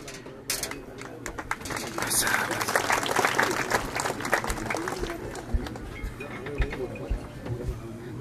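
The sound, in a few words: applause at a ceremony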